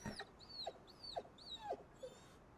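A dog in a video game whimpers in a series of four short, high, whining yelps at a regular rhythm, quiet and close with faint background hiss.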